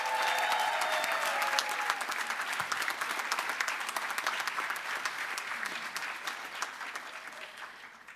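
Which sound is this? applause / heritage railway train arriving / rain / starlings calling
applause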